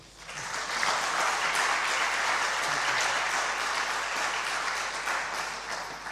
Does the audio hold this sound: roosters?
no